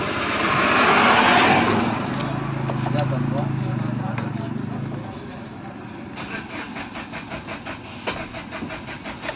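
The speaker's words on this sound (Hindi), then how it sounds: "तो सेल्फ लगा के दिखाते हैं।" A Tata Safari Dicor 2.2 starter cranks with a fault that stops the engine from catching, giving a steady mechanical whirr that runs on without the engine firing, loud and close, with someone talking around it.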